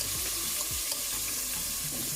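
Fish fries in a single pan for Jamaican brown stewed fish, with a loud, steady sizzle and crackle and light stirring scrapes throughout.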